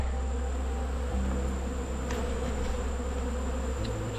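Honey bee colony buzzing loudly and continuously during a late-July hive inspection, a dense close drone of many bees with shifting pitch, no talking.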